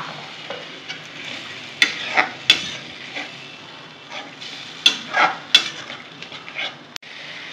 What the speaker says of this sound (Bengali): এটা দিয়ে আমি মশলাটা কষিয়ে নেবো, খুব ভালো করে কষিয়ে নেবো